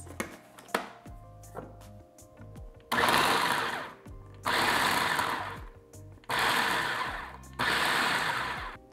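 Food processor pulsing raw cauliflower into rice-sized grains: four loud motor bursts of about a second each, separated by short pauses, with chopping clatter under the whir and no talk.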